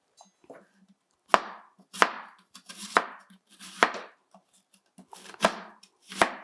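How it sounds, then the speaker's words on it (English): A knife chops onions on a cutting board: loud, close, sharp chops at a steady, unhurried rhythm, with lighter taps between the main strikes. "So I'm going to start chopping the onions."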